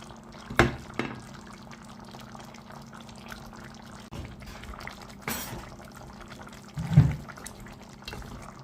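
A spoon stirs a beef and potato stew with peppers in a pot, giving faint wet sloshing with a few sharp knocks against the pot at intervals.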